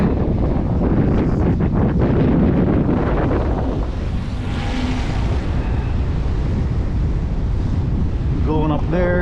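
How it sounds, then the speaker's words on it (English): Heavy wind roars and buffets the microphone continuously while a DJI Mavic 3 drone flies in sport mode in extreme wind, loud and broadband throughout, with a brief whine near the end. "Extreme wind."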